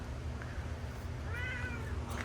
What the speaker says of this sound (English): There's no tag on the cat, so I don't know whose cat it is.